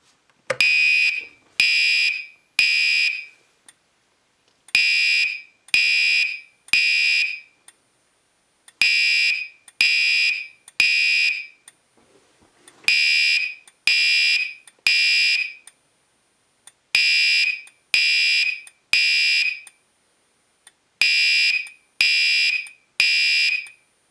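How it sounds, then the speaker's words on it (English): Gentex Commander 3 (GECB24-PWB) fire alarm horn blaring in loud repeated bursts of three pulses, each group separated by short pauses in a temporal pattern, with a faint high tone between groups and no voices. "Now let's get both the horn and the strobe going."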